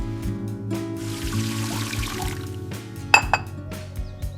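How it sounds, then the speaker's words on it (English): Dishes being washed in a kitchen sink: glass and crockery clink and knock close by over running water, with a few sharp bright clinks near the end. "I wash the dishes."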